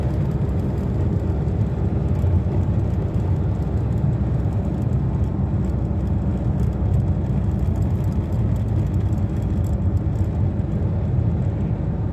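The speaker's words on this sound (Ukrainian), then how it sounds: "Машина їде, вона" Continuous engine and road roar from a car driving past, loud and steady throughout with no voices, close to the recorder.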